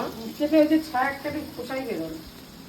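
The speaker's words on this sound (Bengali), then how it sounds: "এইবার কিন্তু মাছগুলো ভাজাভাজি চলছে" Shrimp sizzle and spit in a hot pan, a soft steady hiss running beneath close conversation.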